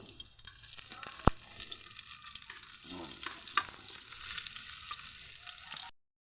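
Garlic and onion sautéing in oil in a pan, a soft continuous sizzle with one sharp clink early on and scattered light scrapes, fairly quiet throughout until it cuts to silence at the end.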